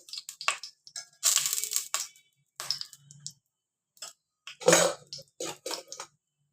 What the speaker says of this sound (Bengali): আমি এখানে গ্রেট করে দিচ্ছি, তো আদা পেস্ট করেও দিতে পারে।